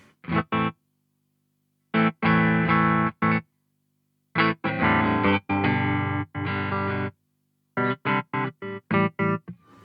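Electric guitar notes chopped by a pulsing ZVex Super Seek Trem tremolo pedal, played in short bursts separated by silences, with the sound cutting sharply on and off.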